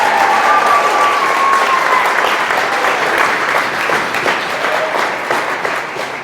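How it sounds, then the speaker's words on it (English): Guests at a wedding-style speech give a loud, dense round of applause, close and sustained, with a few cheers mixed in before it slowly fades. "can we just have another round of applause for how good Jordana looks today, please?"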